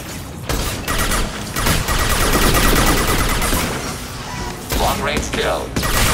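A hacked defensive turret in a sci-fi video game firing sustained bursts of rapid gunfire, loud and dense with crashes and thuds mixed in, brief gaps between volleys.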